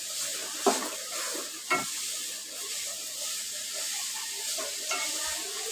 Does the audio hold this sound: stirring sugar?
yes